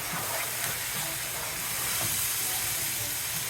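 Garlic sizzles in a hot pan as a steady, dense hiss with no pauses, close by and even in loudness throughout.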